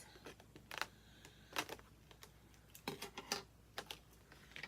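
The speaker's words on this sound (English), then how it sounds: "I'm gonna go ahead and cut this stock card off" Scissors snipping the stock card off a short synthetic wig, faint close clicks and snips in uneven bursts over a quiet room, with no talking.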